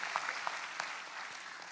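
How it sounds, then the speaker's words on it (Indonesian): A church congregation claps together for Jesus during a sermon, producing a steady, dense wash of applause with scattered sharper claps standing out, fairly close and with no voices over it. "Ayo kita tepuk tangan 10 kali lebih meriah dari itu bagi Yesus."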